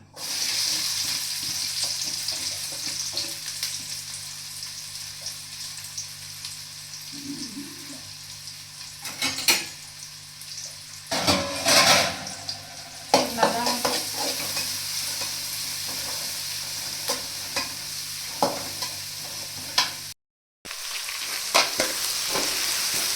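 Steady frying sizzle of chopped onions sautéing in oil in a pan, with occasional stirring scrapes and clinks, continuous and fairly close, no talking.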